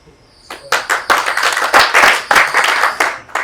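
An audience at a Gen-Z comedy show claps, the applause starting after a quiet half second and going on as a dense, steady run of hand claps with small swells.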